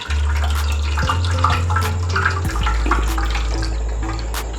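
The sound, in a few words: pouring washed mince and water onto cloth-lined strainer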